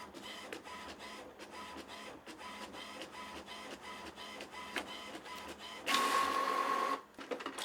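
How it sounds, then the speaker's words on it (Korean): A Samsung SL-T2270W inkjet printer runs a print job with a steady rhythm of mechanical clicks and print-head passes, then a louder whirring burst near the end as the sheet feeds out, all close and with no talking. "그리고 인쇄를 하시면 훨씬 더 컬러풀한 인쇄가 나옵니다."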